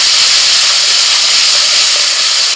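Spice paste hitting hot mustard oil in a wok, with nigella seeds already crackling in it, gives a loud, steady, broadband sizzle that holds unbroken and close for the whole stretch before cutting off at the very end.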